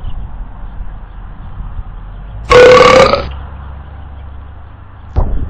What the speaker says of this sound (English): A very loud burp.